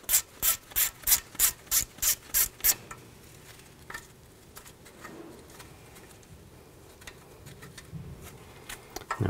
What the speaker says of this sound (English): Now I'm going to remove this bolt, use a 10 millimeter socket.